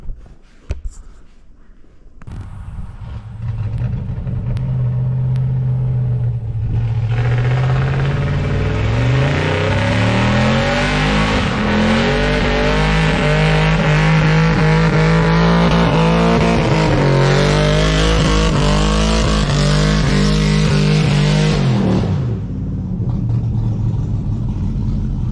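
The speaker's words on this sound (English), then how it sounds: "Test burnout out of the way" An LS-swapped van engine revs hard during a burnout, a loud, sustained roar that climbs and holds at high revs for about fifteen seconds before cutting off, with no voices over it.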